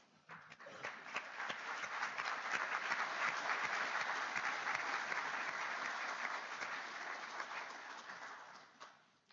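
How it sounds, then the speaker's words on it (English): Audience applause at the 2024 Niagara Economic Summit closing a panel discussion, a dense sustained clapping that swells quickly, holds steady for several seconds, then tapers off near the end. "let's, again, another round of applause to extend thanks for a thought-provoking discussion"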